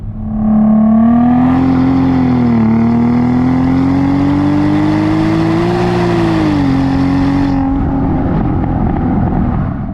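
A 500 hp Audi TT VR6 with an automatic transmission revs up steadily as it accelerates, the pitch climbing, dipping briefly at a shift, then climbing again before easing off; loud and close.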